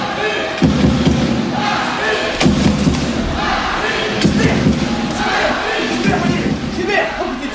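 A large crowd of Marseille football supporters roars and chants in a stadium, with rhythmic thumping beats and surging shouts under a dense, loud din.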